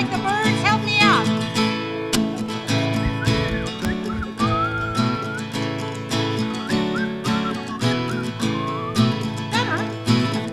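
A church congregation at a Sunday service whistles to imitate birds, with many overlapping chirps and warbles over gentle music and singing, rising and falling in waves.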